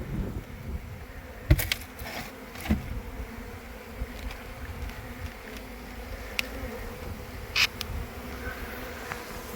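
Honeybees buzzing during a rescue from an Airbnb bathroom, a continuous low drone from many bees with scattered louder passes of individual insects close by and occasional clicks and knocks.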